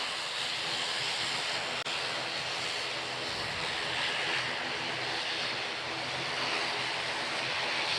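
An Airbus XLR airliner on the runway at the Farnborough airshow gives a faint, distant, steady engine rumble, with a broad airy hiss and one brief click partway through.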